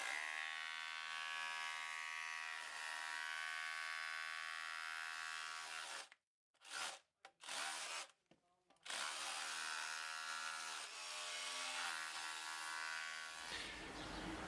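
A Bosch UniversalHammer 18V cordless rotary hammer chisels in hammer-only mode, giving a loud, steady rattling buzz that breaks off into two short pauses around the middle before resuming.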